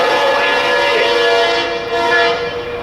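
A CSX SD23T4 locomotive leads a freight train past at speed, a loud, steady roar of engine and rolling wheels on rail with a sustained horn tone held throughout.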